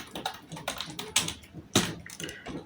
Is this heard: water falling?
no